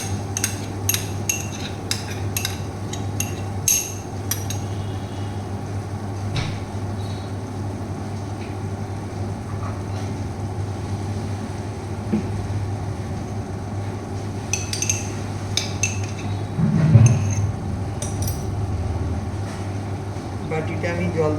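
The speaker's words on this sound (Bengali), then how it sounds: "এবার আমি এর মধ্যে কাসুন্দিটা মিলিয়ে দিচ্ছি।" Kasundi mustard sauce stirred into a katla fish dish in a pan: scattered light scraping and clinks of a spoon over a steady low hum of a stove or fan, with a voice talking throughout.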